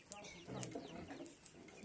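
Chickens on a rural Brazilian farm cluck faintly in short bursts while drinking water during a hot, dry spell, mixed with nearby talk and other yard noise.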